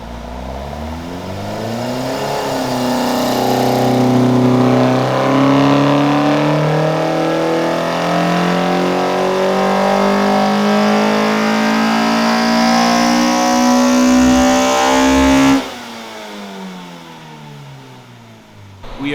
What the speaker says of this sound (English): I was going full tilt running on the dyno